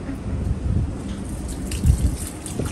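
Water pours onto potted house plants as they are watered, making a steady, close splashing gush with a couple of heavier bursts, with no voices.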